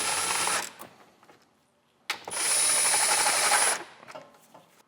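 Ratchet wrench snugging bolts on a 2014-2019 C7 Corvette AWE exhaust install, two loud close bursts of rapid clicking separated by a quieter pause.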